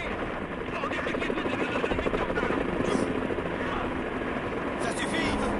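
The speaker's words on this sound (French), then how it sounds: "L'hélicoptère vient de décoller!" A helicopter lifts off in the video game Final Fantasy VII Rebirth, its steady rotor thrum and whine filling the scene beneath game voices and effects.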